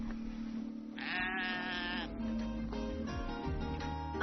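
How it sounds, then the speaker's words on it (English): A sheep in the countryside gives one clear bleat, followed by fainter bleats over a steady low background hum. No one speaks. "After some sheep gazing"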